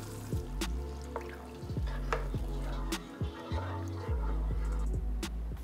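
Coconut milk goes into heated massaman curry paste in a pan, producing a low sizzle, liquid splashes and stirring scrapes with occasional taps, close and moderately quiet, without talk.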